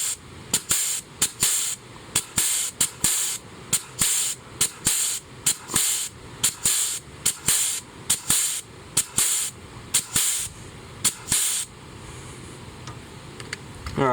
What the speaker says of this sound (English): attaching our grease gun, and you'll see the plate start to move out.